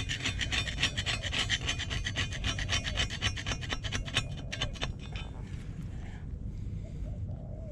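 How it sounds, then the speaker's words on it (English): Paint scraper rasping stripped paint off a metal surface, a steady run of quick repeated scrapes that are loud and close for about five seconds, then tailing off into quieter handling noise. "I've scraped a fair bit off and very easily actually"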